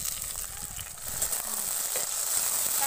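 Tomatoes frying in a pan with garlic and onion give a steady, close sizzle, a continuous hiss holding level throughout without a break, and no voice over it.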